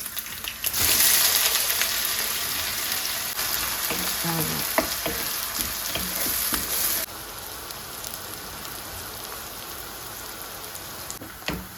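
Sliced onions fry in a pan of hot oil with fennel and cumin seeds. A loud, steady sizzle comes from close by, with occasional clinks and stirring scrapes, then it settles to a slightly softer hiss for the rest.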